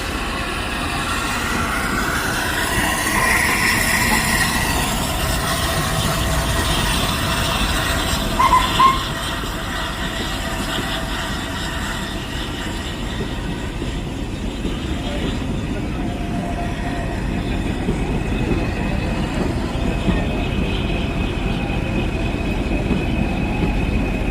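The Flying Scotsman, a 1922 steam locomotive, arrives and passes with its carriages, a steady loud rumble of wheels and train noise under a murmuring, excited crowd.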